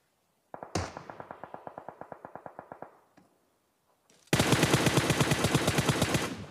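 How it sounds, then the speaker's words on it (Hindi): Kar98 rifle gunfire in the PUBG battle royale game: a burst of about twenty rapid, evenly spaced loud shots, a pause, then a denser, louder volley of rapid fire continuing to the end. "सामने फायरिंग हो जाती है और पता चलता है मेरे पड़ोस से ही कोई कार 98 मार रहा है"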